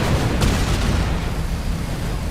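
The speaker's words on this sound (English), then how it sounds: "One last explosion and he's headed for the bottom." A burning aircraft blows up in a video game, a sharp blast followed by a broad rumbling roar that slowly fades, loud and alone.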